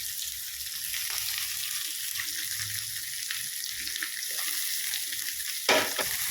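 Green chillies and onion sizzle steadily in hot oil while curd curry is being made, a continuous frying crackle with soft stirring scrapes and one louder clatter near the end.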